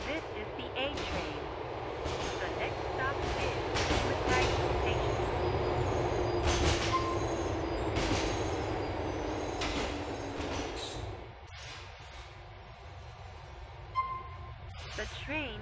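GTA IV A train subway running through Liberty City: a continuous rolling rumble with clatters and squeals, dropping off sharply near the end and leaving a quieter hum with a few clanks.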